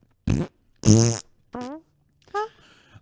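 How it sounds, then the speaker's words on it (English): Four separate fart sounds, short bursts with silence between them, ranging from a deep rumbling one to higher squeaky ones, close and loud. "Any other farts? the little high one. Little angel fart."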